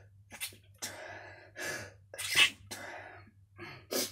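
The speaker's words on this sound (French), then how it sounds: "je vais éternuer" A woman takes several sharp gasping breaths before letting out one loud, close sneeze, followed by more breathy exhales over a low steady hum.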